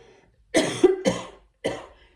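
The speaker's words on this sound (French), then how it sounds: "je sors de la grippe et je tousse encore un petit peu" Three harsh coughs close up from someone recovering from flu, the first two back to back and a third after a short pause, with no speech.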